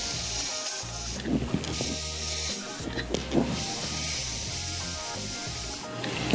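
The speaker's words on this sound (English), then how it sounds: "this air is pretty powerful. And pretty much just blow out the bearing." Canned air blasts out a fingerboard wheel bearing, giving a few sharp hissing spray bursts over a steady mechanical whir of the spinning bearing. The sound is close and fairly loud.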